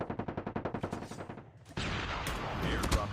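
Rapid automatic gunfire in a competitive shooter video game match, a steady burst of about a dozen close, loud shots followed by a dense wash of noisy battle sound.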